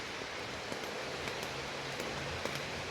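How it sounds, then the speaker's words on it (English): Rain falls steadily around a campsite on a damp day, a faint, even hiss with a few soft drips and taps scattered through it and no voices. "it's been raining all day."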